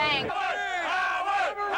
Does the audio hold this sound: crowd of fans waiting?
yes